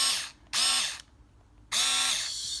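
Meterk cordless screwdriver drill whirring in two short bursts separated by a pause, each burst a high-pitched motor whine that spins up and winds down, close and clear.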